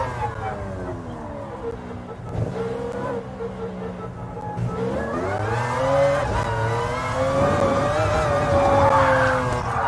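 A 1996 McLaren F1 GTR race car engine in the racing game GT Sport, loud and close, revving and shifting through gears as it accelerates and climbs in pitch, with faint tire noise.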